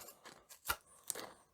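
Dull scissors cutting out paper guitar design pieces, a few quiet close snips and rustles in quick succession.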